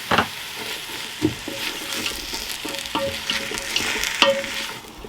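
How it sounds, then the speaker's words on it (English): Onions sizzle and crackle steadily in oil inside a Ninja Foodi, with occasional scraping and stirring clatter from a utensil, close up. "straight away you'll hear a bit of a sizzle from the onions"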